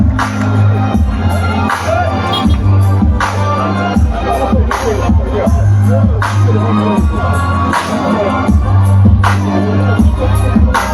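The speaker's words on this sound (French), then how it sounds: "merci de faire un maximum d'applaudissements pour le président de la transition" A crowd at a presidential speech in Makokou applauds and cheers the transition president, a sustained, loud wash of clapping and voices with occasional whoops and rising bursts.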